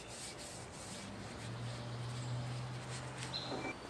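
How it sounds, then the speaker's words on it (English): A cloth rubs a thin coat of oil across the steel surface of a Blackstone griddle, producing a faint, steady scuffing and wiping sound with a brief low squeak midway. "just wiping this down with some thin coats of oil"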